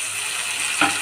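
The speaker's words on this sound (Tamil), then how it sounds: "இப்போ கொஞ்சம் நேரம் எண்ணெயில் நல்லா வதக்கட்டும்" Tomato and bitter gourd fry in hot oil with a dense, constant sizzle, loud and close. A brief stirring scrape comes near the end, and no one talks.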